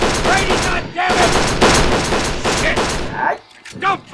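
Rapid bursts of gunfire in the video game Kane & Lynch 2: Dog Days crackle loudly in quick succession, overlapping with excited voices talking, before a brief lull near the end.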